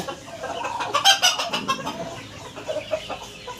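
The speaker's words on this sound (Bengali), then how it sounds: "তিন চারটা মুরগি ডিম দিচ্ছে" Hens clucking in a backyard coop near their egg-laying nests, a run of close, moderately loud clucks and squawks clustered in the first two seconds, then softer intermittent clucking.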